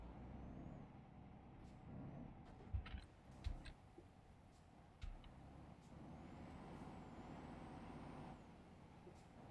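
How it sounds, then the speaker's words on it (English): A truck engine drones low and steady, straining under load, with a few sharp clunks and hisses breaking through midway. "You can hear my truck struggling"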